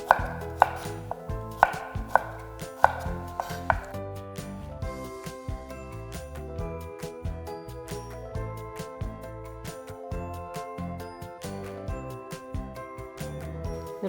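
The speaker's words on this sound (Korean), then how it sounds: "붉은색도 마찬가지로 안쪽에서 칼집을 넣어서 채를 썰어주고요." A knife slices a red vegetable into thin strips on a cutting board, a quick run of crisp, regular taps that stays close and clear, with no voices.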